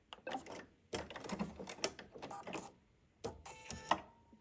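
A sewing machine stitching in short bursts, running forward, reversing and then stopping, producing quiet rapid mechanical clatter broken by pauses and small clicks, close and faint.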